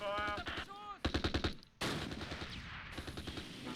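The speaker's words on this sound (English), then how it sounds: "Husky's returning fire to these guys in the south" Rapid machine-gun bursts and rifle fire from the WWII tactical game Close Combat: Last Stand Arnhem, with firing crackling in quick clusters around the middle. Someone talks over the opening, with battle noise continuing underneath.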